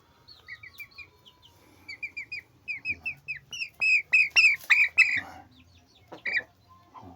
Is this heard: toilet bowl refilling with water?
no